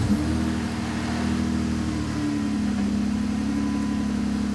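A Jeep engine running steadily right after a cold start following an oil change, a close, loud, even idle hum with a slight shift in tone midway and no talking.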